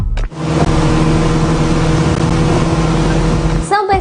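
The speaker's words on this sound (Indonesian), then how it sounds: "Deru suara mesin speedboat terdengar cukup kencang." A speedboat engine roars loud and close at a steady pitch, a continuous droning rumble that fills the whole stretch before cutting off sharply near the end.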